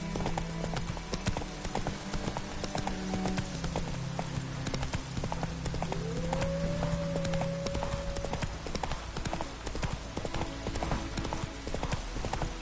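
The horse Roach in The Witcher 3 moves at pace, hooves clip-clopping in a steady rhythm over a continuous bed of game ambience, with a brief sustained tonal sound rising partway through.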